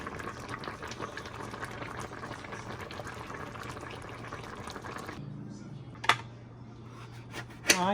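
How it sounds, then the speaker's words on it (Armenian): A pot boils hard on the stove, with a dense steady bubbling rumble for about five seconds before it drops to a quieter simmer broken by a couple of sharp clicks. "Խովեսով եփում է, պտպտում է"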